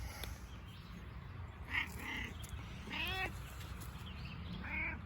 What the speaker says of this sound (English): I got a kitty at my feet.